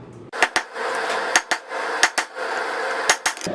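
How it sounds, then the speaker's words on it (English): A hammer forges a taper on 5160 coil spring steel, striking about ten sharp, ringing blows in an uneven rhythm, close and loud over a steady background hum. "Remember, forge both sides so you can keep it even."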